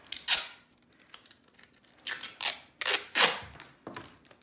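Adhesive tape being pulled off a roll and torn, a few sharp ripping bursts in quick succession, close and alone with no talking, as tape is readied to wrap a paper tag onto a dog collar.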